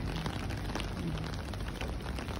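Rain falls steadily on surfaces around a home and swimming pool in Dubai, a dense, even hiss and patter with no speech.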